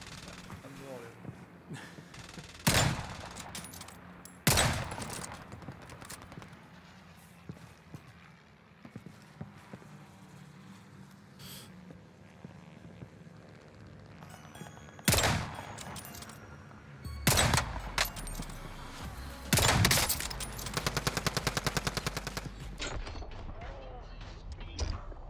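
Rifle shots in a video game ring out as several loud, sharp cracks spaced irregularly, a few in quick succession, over quieter game ambience and talking voices.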